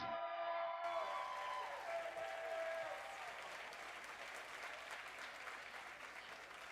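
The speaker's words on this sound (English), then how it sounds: "Big round of applause for all of our winners." Applause for award winners at the Camp Hollywood 2022 dance event swells into a steady crowd clapping that carries on under a fading tonal hum at the start, moderately distant throughout.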